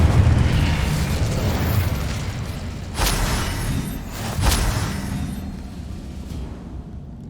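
A fiery Incendio spell blast in the Hogwarts Legacy game, heard as a roaring burst with two sharp booming flares over a steady rushing background.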